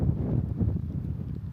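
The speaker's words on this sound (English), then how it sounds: "Ooh, it's windy." Wind gusting across a lava rock field at a campsite, a low, steady rumble of buffeting air close on the microphone with no voices.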